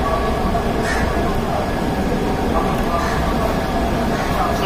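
A train rumbles along a railway track beneath a metro line, a steady loud roar with faint squeals and clatter throughout, and voices mixed in.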